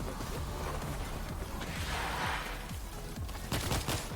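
Mortar fire and gunfire in World War Z, rapid overlapping bursts of shots with a rushing blast in the middle and sharper cracks near the end, dense and fairly distant-sounding throughout.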